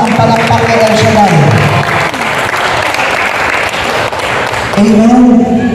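Loud, sustained applause rises from a congregation at a religious service, steady clapping that fills the space while voices sound over it at the start and end.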